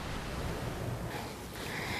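A waterfall pours in a steady, full roar of rushing water, continuous and close with no voices over it.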